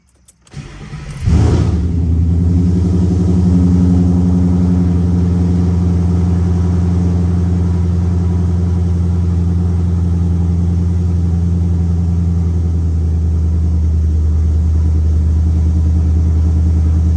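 A Ford car with MBRP axle-back mufflers and a billet steel flywheel cold-starts with a sharp crank and catch, flaring up loudly, then settling into a deep, steady, throbbing idle close by, no talking.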